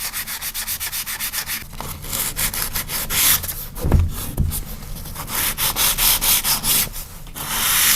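Fine-grit sandpaper is rubbed back and forth over damaged wooden baseboard trim in quick rhythmic scratchy strokes, close and fairly loud, with a brief pause partway through.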